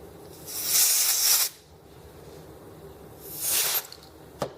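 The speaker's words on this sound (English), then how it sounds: "I'm going to get some canned air and blow out this tiny needle passage" Canned air blasts through a tiny needle passage in a small engine carburetor during cleaning: two sharp, close hissing bursts, about a second and a half each, then a brief puff.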